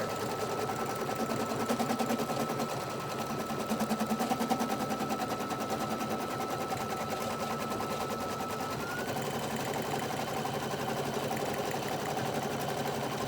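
An embroidery machine stitches an applique onto a kids shirt, a fast, steady, close mechanical rattle of needle strokes running continuously without a break.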